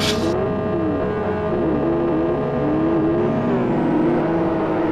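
SuperGT race cars rolling off together on a formation lap, a loud dense drone of several engines with overlapping rising and falling revs close by.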